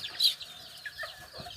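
Bantam chickens cluck softly and briefly, a few faint calls close by against a quiet background.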